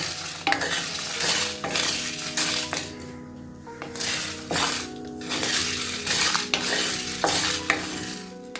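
Dry spices roasting in a hot pan, scraped and stirred, a steady rattling and scratching with repeated sharp clinks of the spoon, close and continuous, no talking.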